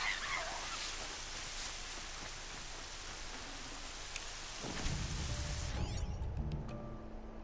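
Steady rain hisses throughout while a turkey gobbles briefly in the background in the video game Horizon Zero Dawn, followed by a lower rumbling shift and some faint tones near the end.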